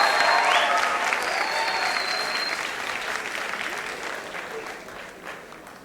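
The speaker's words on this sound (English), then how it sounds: "I would like to hear a loud clap for all my people, please" Sustained applause from an audience, loud at first and slowly fading over several seconds, with a few faint voices mixed in.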